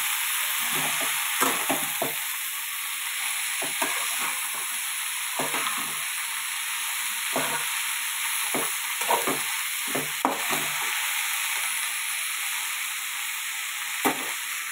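Broad beans (chikkudukaya) fry in a pan with onions, a steady close sizzle running throughout, broken by repeated scraping stirs and small spatters.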